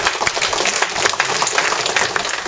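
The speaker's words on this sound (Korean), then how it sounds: "우리 박근혜 비상대책위원님께 큰박수 격려를 한번 해주십시오" A crowd at a political party gathering applauds Park Geun-hye, a dense, loud and continuous wash of many hands clapping throughout.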